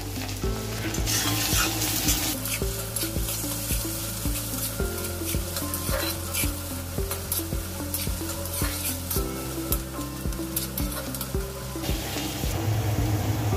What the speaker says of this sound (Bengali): এখন দিয়ে দেব পেঁয়াজ, তেজপাতা, দারুচিনি, রসুন একটু থাতলা করে নিয়েছি।